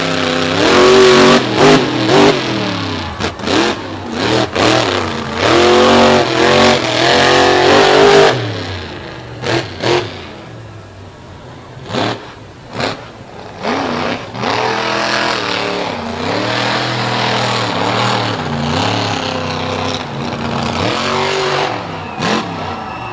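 A monster truck's engine roars and revs hard at a beach show, loud close surges that drop away briefly and then build again into sustained high revving.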